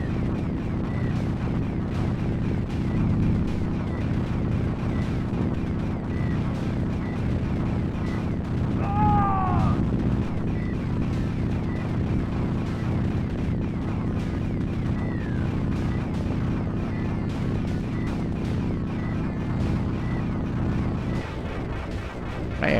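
Grenades explode in the arcade video game Guerrilla War as a continuous barrage of booming blasts and rapid gunfire over a thick, loud game soundtrack, with occasional electronic chirps.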